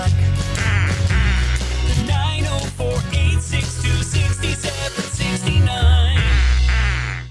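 Cartoonish duck quacks in a plumbing company's radio ad, a run of nasal honks over a loud music bed with a strong bass line, close and bright throughout.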